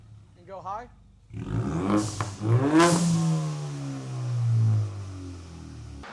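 A Ford Mustang EcoBoost with an aftermarket exhaust revs hard up close: a short voice first, then sharp throttle blips rising into a long, climbing rev that settles back to a droning idle.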